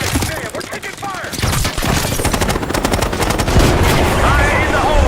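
Heavy rapid gunfire and explosive booms fill a Call of Duty Black Ops 6 cutscene, loud and continuous amid battle noise, with shouted voices mixed in.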